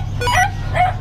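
A dog at a K9 kennel gives two short, sharp barks about half a second apart, loud and close, over a low steady rumble.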